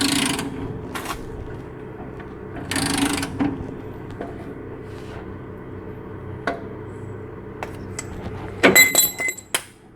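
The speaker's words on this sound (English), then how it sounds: "you're going to tighten this down, and it's going to drive the shaft downward" A tie rod end removal tool is tightened down onto the shaft, making scattered metallic clicks and ratcheting ticks with brief rough bursts. A cluster of sharp clanks comes near the end.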